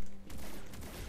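Enemy gunfire in the G.I. Joe: Operation Blackout video game, a quick burst of several shots in rapid succession at moderate loudness, with no voices over it.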